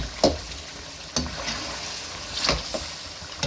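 Softened tomatoes are mashed and stirred into a beef karahi, with a quiet sizzle under a few sharp scrapes and taps of a spoon against the pan.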